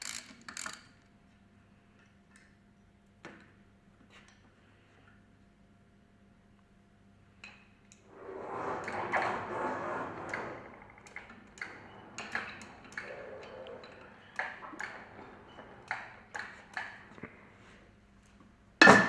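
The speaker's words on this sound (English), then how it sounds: "Remove the Allen screw that holds the bearing cover to the shaft cover part." An Allen screw is worked loose from the bearing cover of a DESMI NSL pump, giving faint metallic ticks and taps, then a longer stretch of close scraping and clinking of tool on metal.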